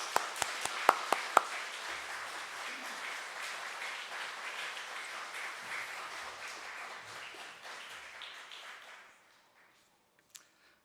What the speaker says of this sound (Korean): 이 시간에 그런 마음을 담아서 우리 축복의 박수로 좀 맞았으면 좋겠습니다